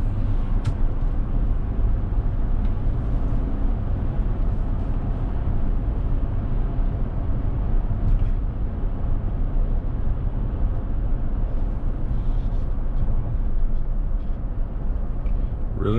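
A Chevrolet Suburban cruises on a test drive, its cabin filled with a steady low road rumble and engine drone that holds evenly for the whole stretch, with only a few faint clicks and no talking.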